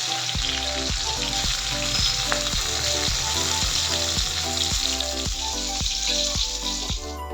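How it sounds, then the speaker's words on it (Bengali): Pointed gourd (potol) sizzles steadily in hot oil, a loud continuous crackling fry throughout, with a regular mechanical clicking pulse running beneath it. "পটলটাকে আমি এখন লাল লাল করে ভেজে নেব।"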